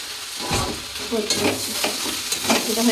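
Spice filling for rolls fries and gets stirred in a pan, with a loud continuous sizzle broken by repeated scraping strokes of a spoon, close up and with no talk.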